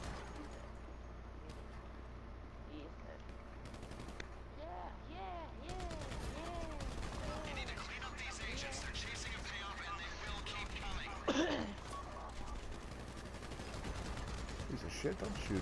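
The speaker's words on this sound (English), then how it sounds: "Another guy is shooting me in the face." Rapid gunfire from a Grand Theft Auto V shootout, a dense stream of shots and bursts over a steady low rumble, with voices talking throughout.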